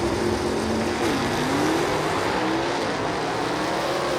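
Southeast Gassers drag race cars, including a little Chevrolet, roar down the Huntsville Dragway strip. Loud, dense engine noise holds throughout, with a pitch sweeping upward as they accelerate.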